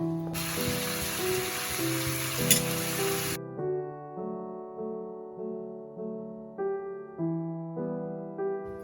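Water rinsed from a mixer jar pours into a cooking pot of milk for a Bengali marich jhol, a loud steady splashing gush for about three seconds, then quiet with a steady musical tone continuing behind.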